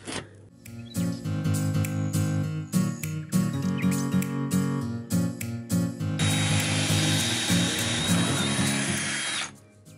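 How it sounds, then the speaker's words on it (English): A power drill bores through wood to make a hole for a pipe during a toilet install in a UK coach conversion, its steady whine running loud and continuous for several seconds after bursts of shorter tool noise. "Let's just drill and hope for the best."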